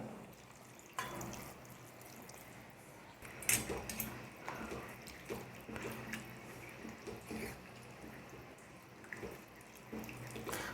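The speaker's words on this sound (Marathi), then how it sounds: "जवळपास दोन ग्लास पाणी टाकायचं आहे बरं का" About two glasses of water poured into a pot of cabbage curry, a steady splashing rush with a few louder surges, close and moderately loud.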